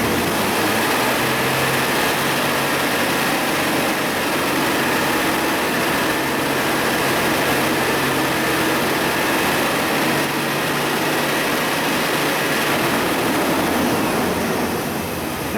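A car engine held at high RPM drones steadily and loudly for the whole stretch, a dense unbroken roar with a faint low hum underneath and no talk.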